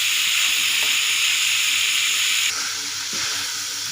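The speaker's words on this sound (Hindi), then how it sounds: "थोड़ा सा इसको सब्जियों को फ्राई करेंगे" Cabbage and other vegetables sizzle and fry steadily in a pan for chicken tikka macaroni, a close, constant bright hiss that eases slightly partway through, with no talking.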